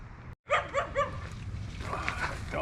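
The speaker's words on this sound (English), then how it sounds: "Dog's going to drive me nuts today." A dog on a ranch barks and yips three or four times in quick succession at moderate distance, followed by softer whining sounds, with no talking.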